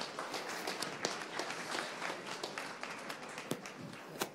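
Hands clapping from an audience in a hall after a startup pitch at a pitch marathon, a dense, even patter of many claps with a few sharper individual slaps, fairly quiet and sustained for several seconds.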